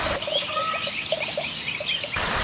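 Several small birds chirp in short, bright bursts against a quiet outdoor background, scattered calls close by.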